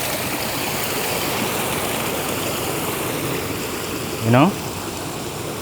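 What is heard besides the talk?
motion-sensing water fountains spurting at Lusail Marina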